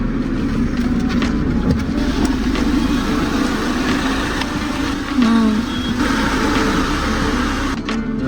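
A car reverses slowly out of a cramped expressway rest stop. Its engine hums close and steady underneath a constant rumble, with faint clicks and a brief tone.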